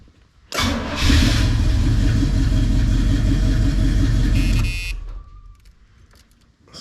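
A 1981 Oldsmobile Cutlass G-body engine cranks briefly, then catches and runs at a loud, steady, rough rumble for about four seconds before cutting off, heard close with no talk.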